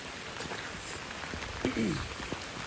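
Heavy monsoon rain falls on a hillside trekking trail near Bhimashankar, a steady broadband hiss throughout, with a brief voice heard faintly partway through.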